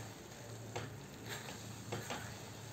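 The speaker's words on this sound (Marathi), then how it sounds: "त्यानंतर आता छान आपण हे हलवून घेऊया" A spoon stirs desiccated coconut in a pan for a sweet made with daliya and paneer, soft scraping and faint sizzling at low volume with a few light clinks against the pan.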